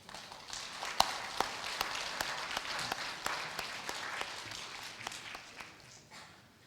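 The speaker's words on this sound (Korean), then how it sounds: "격려하는 박수 한번 하겠습니다" Scattered, moderately sized applause from a church congregation, with sharp individual claps standing out, steady for several seconds and then tapering off.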